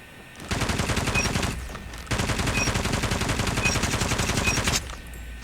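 Rapid sustained automatic fire from a BK57 gun shot from the hip in a shooter video game, two long loud bursts separated by a brief pause, with no talking.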